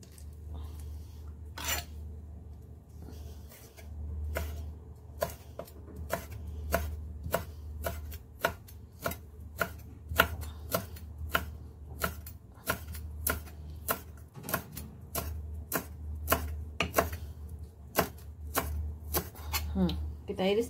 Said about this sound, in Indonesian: Kemudian kita iris seperti kita membuat untuk adonan soto ya. Kita iris tipis-tipis ya.